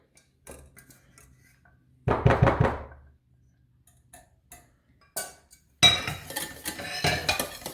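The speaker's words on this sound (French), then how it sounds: "Je vais prendre la maryse pour racler un petit peu notre casserole." Sparse scraping and knocking of a silicone spatula against a metal saucepan, a few short bursts with quiet gaps, then a busier stretch of clinking and scraping.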